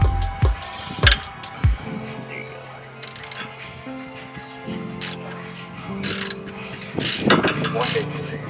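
A ratchet wrench turns bolts on a 2000 Honda Civic during a cold air intake and short shifter install, giving close bursts of clicking ratchet spins and metallic clanks with pauses between them.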